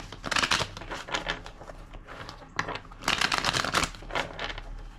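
Close-up riffle shuffles of a deck of cards, several quick crisp bursts of flicking paper separated by short pauses.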